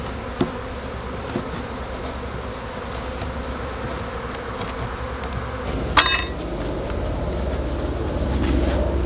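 Honey bees buzzing around an opened beehive as it is closed, a dense steady hum close by with a sharp wooden knock partway through.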